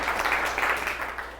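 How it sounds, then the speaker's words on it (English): Audience clapping at an AIA Austin Building Enclosure Council meeting: a steady, dense wash of many hands at moderate level, continuous throughout with no voices over it. "Don't clap yet."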